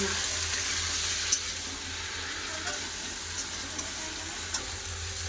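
Chopped vegetables frying with onions in a pan, giving a continuous, even sizzle with a few faint clinks of stirring, close and steady throughout.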